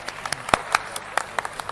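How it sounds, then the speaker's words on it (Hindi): Welcoming applause for a guest speaker at a live rural e-store seminar, a short run of distinct hand claps at an uneven pace, fairly light and thin. "एक बार जोरदार तालियों से स्वागत करें।"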